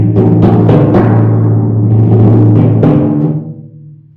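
Percussion audition excerpt from measure 29: a few sharp strokes lead into a sustained roll that holds steady, then fades out, played solo and close.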